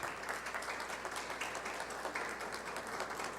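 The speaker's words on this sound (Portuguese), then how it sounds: "a quem eu peço uma salva de palmas" An audience applauding a new honorary citizen of Goiânia at a formal ceremony, a dense and even round of clapping held at moderate distance for a few seconds.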